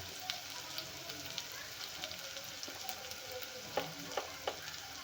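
Masala for a spicy mutton curry sizzles and fries in a pan, a soft continuous crackle with occasional sharper pops and scrapes of stirring, heard close but fairly quietly with no talking.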